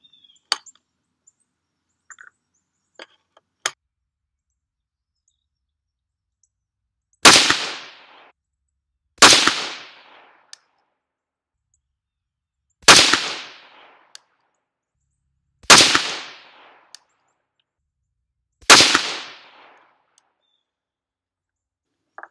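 Five loud, sharp rifle reports from a 6.5 Grendel firing 130-grain Nosler RDF loads at a 100-yard target, spaced roughly three seconds apart at close range, with faint clicks and rustles beforehand.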